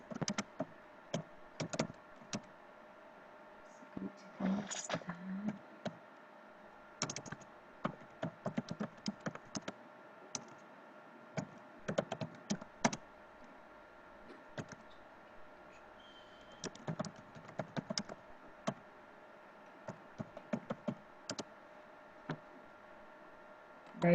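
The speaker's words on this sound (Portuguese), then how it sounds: "Vou escrever no outro teclado, porque esse aqui não tá dando certo." Fingers tapping on a computer keyboard during an online Spanish lesson, irregular bursts of quick, light clicks separated by short pauses, close and fairly quiet, with no talk.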